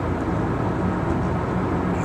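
Car interior while driving, a steady low rumble of road and engine noise with cabin vibration, continuous and unbroken with no talking.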